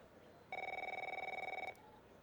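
A telephone rings in the video game The Operator, one long electronic ring lasting just over a second, with a fast pulsing trill, heard alone against a quiet background.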